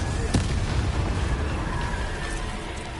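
The Incendio fire spell in the video game Hogwarts Legacy bursts with a loud, booming blast and a sharp crack near the start, then a dense, rumbling roar that sustains and slowly fades.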